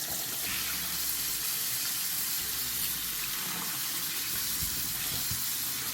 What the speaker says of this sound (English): First thing you want to do is wash your tomatoes thoroughly.